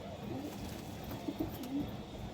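A male spotted domestic high-flyer pigeon with white eyes and a small beak coos softly in a few short, rolling phrases against a steady background hiss.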